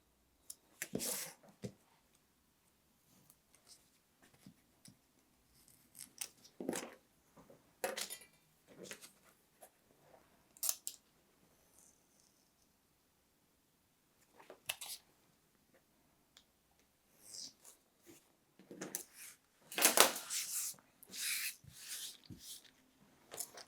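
A knife scores through bookbinding board along a ruler in scattered short scraping strokes, quiet and close, with irregular gaps and a louder cluster of cuts near the end.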